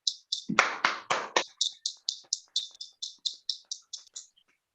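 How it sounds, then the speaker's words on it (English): Online meeting participants clap over a call: a run of about eighteen quick, thin claps in a steady rhythm, tinny and band-limited, tailing off into silence. "Unmute yourself and please clap for him once"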